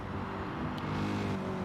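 GT race cars at Brands Hatch wind through the Druids hairpin in a steady, droning engine chorus of several cars at once, moderately loud and unbroken for the short stretch.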